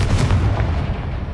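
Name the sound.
Confringo fire spell blast, Hogwarts Legacy video game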